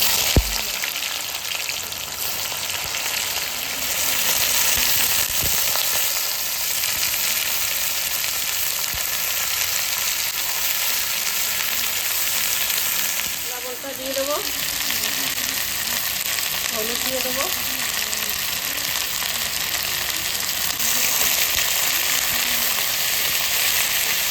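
Dried chilies, cumin and onion frying in hot oil, a steady dense sizzle throughout with occasional faint stirring scrapes, close and continuous.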